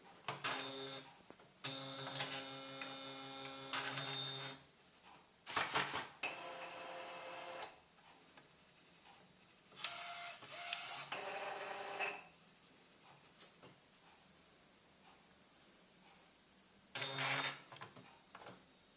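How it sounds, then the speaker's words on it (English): An Epson R2000 printer runs after being switched on, giving several bursts of mechanical whirring and buzzing with short pauses between them. The sound is close and moderately loud, with no talk over it. "We can turn on the printer."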